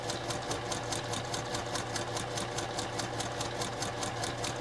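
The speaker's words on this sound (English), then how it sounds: "you're gonna pivot and then keep sewing around the outside" A sewing machine stitches around the edge of a quilted flea-market table runner, running with a fast, even, unbroken chatter of needle strokes that stays steady and close throughout.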